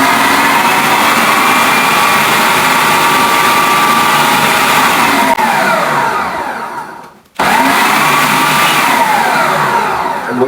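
A food processor blends mulberries for jam, a loud steady whir that runs continuously, cuts out briefly near the end, then starts up again at full strength.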